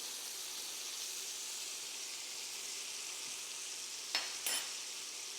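Butter sizzles steadily in a hot pan alongside a seared steak, a continuous close hiss of frying with a couple of brief clicks near the end.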